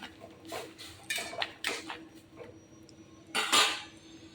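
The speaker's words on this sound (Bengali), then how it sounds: "এবার নেড়ে চেড়ে তরকারিটা একটু ঘন করে ফেলতে হবে" A spoon stirs ridge gourd and shrimp curry in a pan, giving several separate scraping clinks against the metal with quiet gaps between them, the last strokes the loudest.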